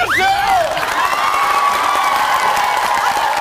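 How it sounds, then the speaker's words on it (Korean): A studio audience at a Korean TV magic show cheers and claps loudly after an illusionist's act, with whoops and shrieking voices over a continuous roar of applause. "정말 박수 주세요"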